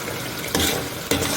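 Tomatoes sautéing in oil in a pan, a constant sizzle interrupted by two sharp scraping stirs of a utensil against the pan, with no talking.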